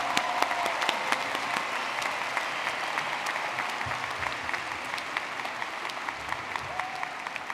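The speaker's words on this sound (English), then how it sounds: "Please give a round of applause to the master's and specialist degree graduates." Applause from the audience at a university spring commencement ceremony for master's and specialist degree graduates; a steady crowd of clapping hands with distinct individual claps standing out, continuing evenly throughout without speech.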